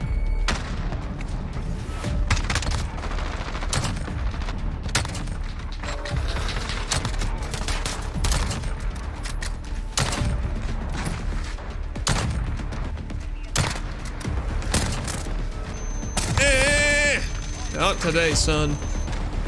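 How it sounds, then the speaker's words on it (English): Rapid AK-47 bursts and distant explosions fill a Modern Warfare match, with dense, near gunfire throughout and someone talking over it. "Can't tell where I'm getting shot from."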